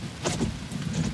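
Windshield washer fluid sprays on a Tesla Model 3, a short hissing spurt against the glass over a low in-car hum.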